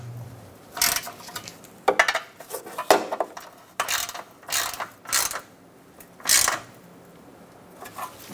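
A ratchet wrench tightens the bolts on a rear shock and spring assembly of a 2002-2006 Honda CR-V, producing repeated bursts of close, clicking ratchet strokes separated by short pauses.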